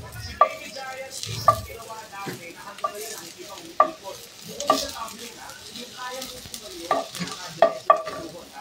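Fried rice with sausage, garlic, onion and vegetables is stir-fried in a pan, a soft continuous sizzle punctuated by regular sharp scrapes and clinks of the spatula against the metal, with no talking.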